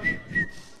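A single person whistles on a Spanish-language TV game show set, two short high steady notes in succession, heard alone without talk.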